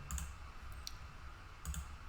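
Computer mouse clicks in a quiet room while formatting a bar chart: a couple of quick close clicks at the start, a faint one in the middle, and another pair near the end.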